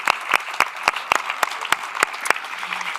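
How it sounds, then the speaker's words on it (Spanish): Sparse applause closing a cultural talk, about ten distinct sharp claps in a loose, even rhythm, close and clear over a quiet background. "Gracias, Santiago, un fuerte aplauso."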